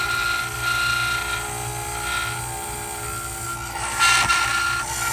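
An egg-shaped burr on a dental handpiece grinds away denture reline material, giving a steady whirring tone with a ratcheting mechanical texture and a brief louder burst near the end.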